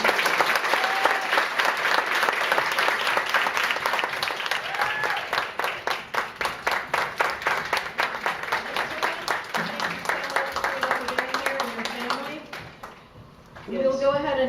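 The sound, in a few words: audience applause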